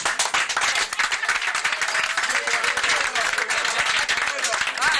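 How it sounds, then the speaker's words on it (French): A studio audience on a Sunday variety show claps loudly and close, with dense, sharp individual handclaps over a crowd murmur and some voices mixed in. "Applaudissez quand même pour nous alors"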